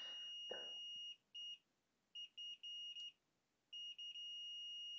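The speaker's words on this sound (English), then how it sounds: "our multimeter is currently in continuity mode. That is the mode where the thing beeps." A multimeter in continuity mode on a repair bench gives a series of high, steady electronic beeps, some short and some held for about a second, separated by near silence, with one faint tap early on.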